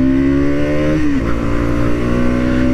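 A 2024 Bajaj Pulsar NS200 motorcycle engine idles steadily, then blips briefly, the pitch dipping before settling back to a loud, even rumble close by.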